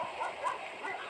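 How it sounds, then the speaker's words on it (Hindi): Several dogs barking and yipping in a busy, overlapping chorus at moderate distance, steady throughout with no pauses. "उसे अपने पीछे भागते हुए कुत्तों की आवाज सुनाई दी"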